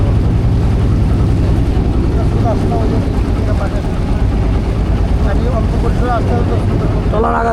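A motor trawler boat engine drones loudly and steadily on shallow winter water at Lalakhal, Sylhet, with people talking faintly over the constant low mechanical rumble.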